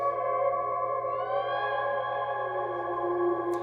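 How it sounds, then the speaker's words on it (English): An electric guitar high-pitched swell run through reverb and delay pedals, sustained ringing tones that glide upward and then settle, layered in a washy, echoing shimmer. "when I do my high pitch, the reverbs are going to keep that high pitch in the ringing of the reverb and"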